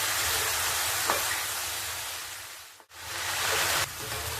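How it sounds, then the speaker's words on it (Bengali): Okra and cucumber with spices being stirred in a pan: a steady, fairly loud hiss of sizzling that dips to near silence for a moment before resuming, with no voices. "সব মশলাগুলো দিয়ে এবারে একটুখানি নেড়ে নিতে হবে"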